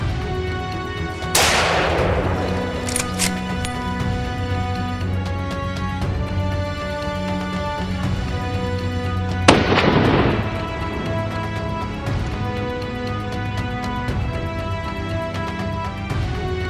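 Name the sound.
continuous gunshots on a hill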